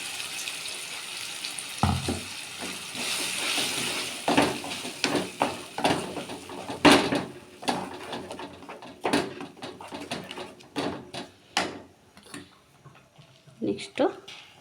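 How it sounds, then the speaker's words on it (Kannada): Tomatoes fry in a pan for idli sambar, giving a soft steady sizzle with scattered clinks and stirring knocks from the cookware. A voice talks over it now and then. "ಟೊಮೊಟೊ, ಇದನ್ನು ನೀಟಾಗಿ ಫ್ರೈ ಮಾಡ್ಕೊಳ್ಳೋಣ"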